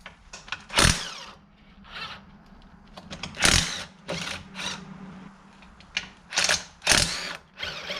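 A bolt being worked out of a Getrag 260 manual transmission housing from an E30, with close, loud metallic ratcheting bursts in irregular spurts separated by quieter clicks and handling noise.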